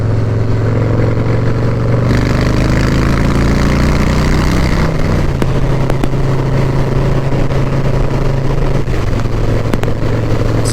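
Motorcycle engine droning loudly and steadily at close range, the pitch shifting midway as the bike picks up speed, with heavy wind noise throughout and no talking.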